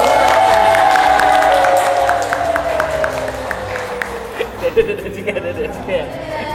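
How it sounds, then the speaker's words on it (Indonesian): A crowd at a madrasa school program claps and cheers loudly for the first-place Group A, with whoops and a rising shout over the clapping; the noise then fades into scattered claps and voices. "Tepuk tangan untuk kelompok A"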